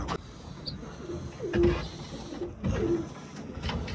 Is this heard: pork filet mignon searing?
no